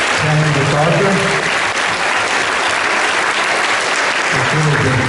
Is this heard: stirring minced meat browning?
no